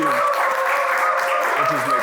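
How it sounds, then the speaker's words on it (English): A studio audience applauds a guest, the chef Dennis Ombachi, with steady, dense clapping that holds at an even level for the whole stretch and has no gaps. "help me welcome Mr. Dennis Ombachi. Applaud him."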